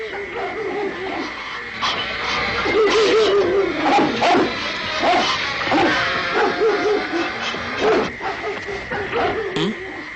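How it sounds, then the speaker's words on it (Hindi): Several dogs bark, yip and whimper in an excited, overlapping cluster throughout, loud and close, with voices talking over them in an animated jungle-adventure scene. "ये कुत्ते भौंक क्यों रहे हैं इतना?"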